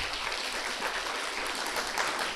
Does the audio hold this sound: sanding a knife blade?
no